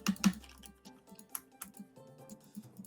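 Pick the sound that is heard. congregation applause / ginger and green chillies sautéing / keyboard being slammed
keyboard being slammed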